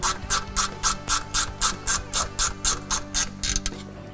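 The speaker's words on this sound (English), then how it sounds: "so we can easily run them in with your average box end wrench here" A box-end wrench ratchets self-tapping bolts into a Ford 6.7L Power Stroke while a bypass oil filter is fitted, making a steady run of about fourteen close, crisp metallic clicks in an even rhythm with no talking.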